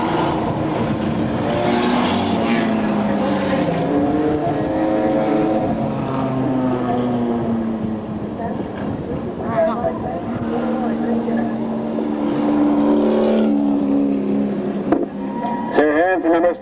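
A 1984 Rabbit race car with a VTEC engine drives a victory lap at a race event, its engine droning steadily with shifting pitch as it passes, under continuous announcer commentary.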